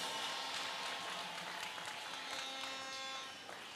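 Church congregation clapping together in a sustained, even burst of applause that fills the room, with a faint background tone underneath and no clear speech.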